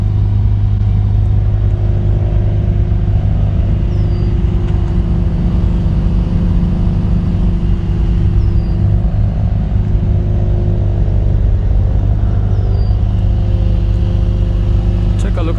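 Idling 2020 Mercedes-AMG CLA 35 engine holds a constant deep, close hum throughout, steady and even with no revs, alone in the foreground.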